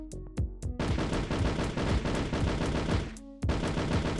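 Automatic gunfire in a DOOM-style first-person shooter, a few single shots at first, then a sustained rapid burst for several seconds, a short pause, then firing resumes, loud and close with no talking.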